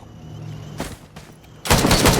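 An enemy blows up in the video game Risk of Rain, heard as a short burst of sharp crackling blasts ending in a loud sustained noisy rush, with no speech.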